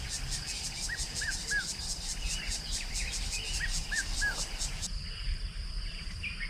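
Village weavers chirp at a dam in two brief bursts of short, repeated calls, moderately close, over a steady high buzz of insects and outdoor ambience.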